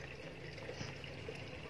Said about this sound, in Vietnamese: Đây mình đang xả nước nha mọi người.